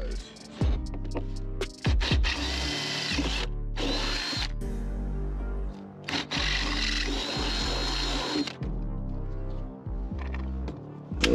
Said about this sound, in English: it's a 5/16 hole that you want to drill